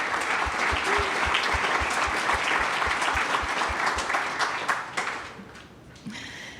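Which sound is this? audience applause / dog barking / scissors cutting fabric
audience applause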